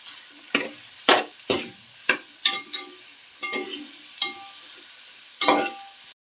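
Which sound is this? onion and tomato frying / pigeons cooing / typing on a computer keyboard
onion and tomato frying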